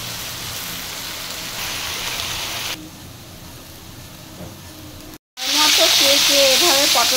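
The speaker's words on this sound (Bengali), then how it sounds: "আলু ভাজির জন্য তেলটা দিয়ে নিচ্ছি।" Oil heats in a pan for frying potatoes, hissing steadily and then quieter, before a short break and a sudden louder, crackling burst of sizzling.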